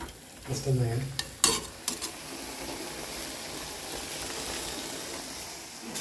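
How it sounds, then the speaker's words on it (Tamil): Fish frying on a dosa griddle: steady sizzle with a few sharp clatters and scrapes near the start, then continuous crackling hiss. "இன்னொரு பக்கம் தோசை தவா வச்சு வஞ்சரம் மீன் பொறிக்க ஆரம்பித்தாச்சு"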